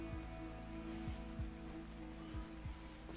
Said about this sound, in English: We got the rain.